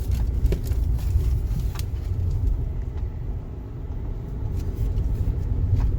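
A car driving along a road, heard as a continuous low engine and tyre rumble from inside or close by, fairly loud and steady, with no clear talk.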